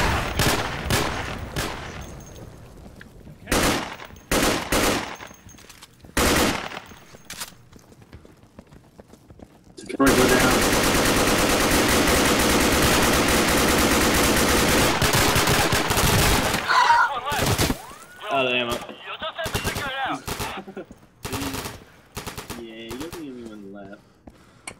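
Gunfire in the tactical shooter video game Insurgency: scattered single shots, then a sustained burst of rapid automatic fire lasting several seconds, followed by more sporadic shots and voices talking over the action.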